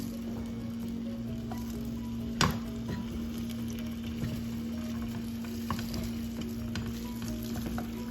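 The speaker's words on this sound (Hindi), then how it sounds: "फ्राइंग पैन में मैंने कुकिंग ऑयल लिया, अब इसको मैं फ्राई करूंगी।" Partly cooked mutton chops fry in cooking oil in a frying pan, giving a continuous close hiss and crackle with a faint steady hum and an occasional sharp knock.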